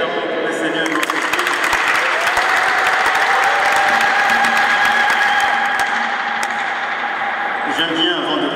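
A congregation at a French Catholic Mass, the first Mass of a newly ordained abbé, breaks into loud, continuous clapping and cheering, with voices carrying held tones through the applause for several seconds.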